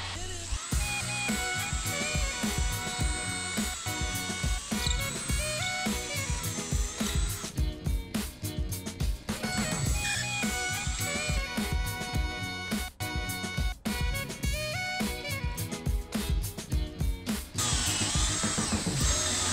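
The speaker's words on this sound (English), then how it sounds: "to make sure I'm drilling the holes perfectly straight, I'm using a doweling jig." A power drill bores dowel holes in solid cherry wood through a doweling jig, its high whine running almost continuously with brief pauses and pitch changes as the bit cuts, loud and close with no talk.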